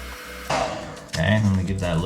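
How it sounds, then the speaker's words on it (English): A hair dryer runs close by, blowing a steady whoosh over filler patched into a scratch at the bottom of a shower, with a voice talking over the airflow. "That was only a minute with the hair dryer on that."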